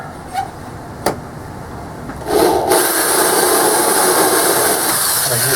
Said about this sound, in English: I'm just going through the hinge itself. And I use my funky drill block here to get the hole straight.